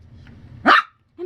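A puppy gives one sharp, loud bark close up, then a short quiet pause before a second bark starts at the very end.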